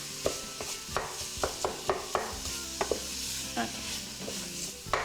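Ground meat half-cooked in a pan, sizzling softly under a run of sharp utensil taps and scrapes as it is stirred and broken up; a voice speaks a single brief word.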